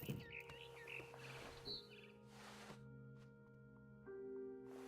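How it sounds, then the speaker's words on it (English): A few short bird chirps outside a window in the video game What Remains of Edith Finch, over a soft electronic music bed with synthetic tones and faint noisy swells. "Then I heard chirping outside my window."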